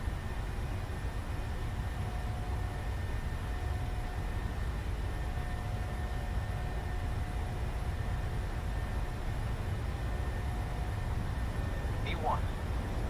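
Boeing 737 jet engines spool at takeoff thrust in a flight simulator cockpit, a steady, even roar with a broad low rumble and a faint whine throughout, while pilot voices speak over it.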